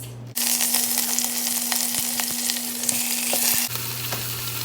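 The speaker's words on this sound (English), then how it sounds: "my Instant Pot says hot, so I'm just going to throw in some of these pork chops" Large pork chops searing in a hot Instant Pot, a sudden burst of bright sizzling when the meat goes in, steady crackle with a few sharp pops, settling slightly near the end.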